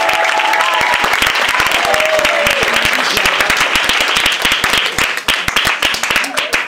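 A church congregation applauding in a loud, dense burst of clapping with distinct individual claps, fading and thinning toward the end while voices are heard in the background.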